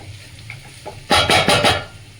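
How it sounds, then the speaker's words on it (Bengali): Chicken momo filling stirred in a pan over medium heat, with four quick, loud scraping strokes in a row after a soft sizzling lead-in. "মিডিয়াম সিমে হালকা একটু স্টার করে নেব"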